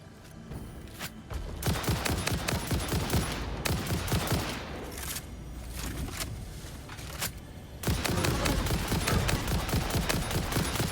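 Rapid bursts of gunfire pound enemies in the video game Satisfactory, dense and loud for the whole stretch, dipping briefly near the middle before surging even heavier toward the end.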